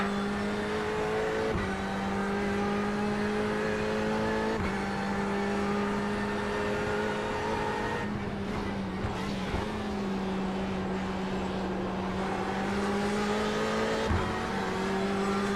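Race car engines drone steadily in an iRacing sim race while one car drafts closely behind a Porsche. The engine note holds and shifts pitch through gear changes, loud and continuous, with some faint background noise.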